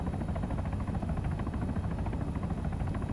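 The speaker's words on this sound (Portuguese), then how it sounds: "tem um helicóptero descendo lá no meio" A helicopter descends in the Arma 3 video game, its rotor a steady low throbbing drone, moderately distant and continuous, with no talk over it.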